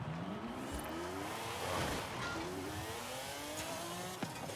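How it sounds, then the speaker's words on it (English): A race car engine in Forza Horizon 5 whines and shifts pitch steadily as tires squeal through a long drift, continuous and loud with no voices. "That's just the car going into full-on drift mode."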